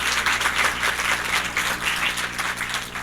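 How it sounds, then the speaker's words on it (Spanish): An audience at a World Heart Day event applauds the doctors with dense, steady clapping that holds evenly for a few seconds, fairly close and without speech. "un fuerte aplauso por favor a los doctores quienes compartieron con nosotros"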